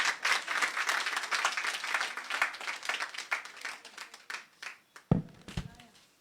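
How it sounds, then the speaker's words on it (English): Audience applause at a health-rights talk streamed live, a dense burst of clapping that thins into scattered claps and tapers off near the end. "Then clap for me."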